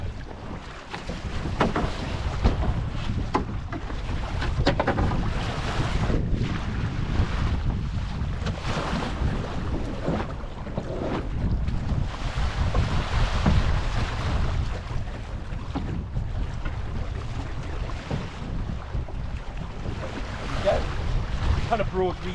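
A sailboat reaching down a lake in a northwesterly wind, with heavy low wind buffeting on the microphone and rushing water along the hull, continuous and close throughout, with a voice briefly under the noise.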